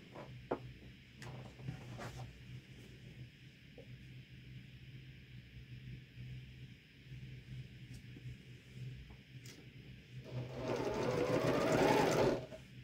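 Sewing machine joining quilt pieces for a Valentine heart block, brief soft stitching bursts early, then a louder sustained run of rapid needle chatter near the end.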